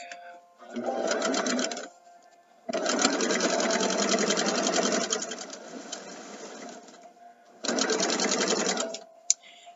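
Sewing machine stitching fabric pieces together, running in three sustained bursts of steady rapid whirring separated by short pauses, close and fairly loud with no talking.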